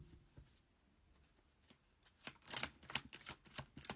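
Tarot cards being shuffled for a general reading, quiet at first and then building into a cluster of soft papery riffles and slaps, faint and close, with no one speaking.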